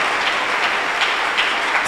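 A church congregation applauds to acclaim the Lord: dense, steady clapping from many hands fills the room for the whole stretch, with no voices standing out.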